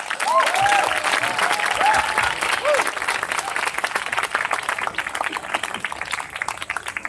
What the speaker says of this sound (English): let's give the two MCs a loud round of applause.